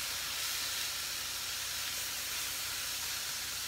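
An onion sautés gently in a pan, a steady close hiss of frying that holds evenly for a few seconds with no break and no talking.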